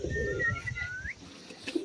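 Pigeons in a pigeon loft give soft coos and a brief whistling call, close and fairly quiet, over low background rustle.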